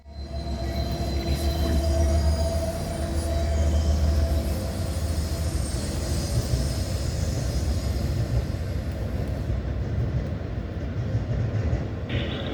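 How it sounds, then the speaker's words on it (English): A Norfolk Southern intermodal freight train rolls past on track one in Elkhart, Indiana, with a loud, steady rumble and clatter of wheels and cars, occasional faint squeal, and no talk. "I heard another train approaching. It was an NS intermodal train on the number 1 track."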